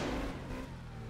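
Car in My Summer Car revving hard to break free after getting stuck, a short loud engine roar that holds briefly and then eases off slightly.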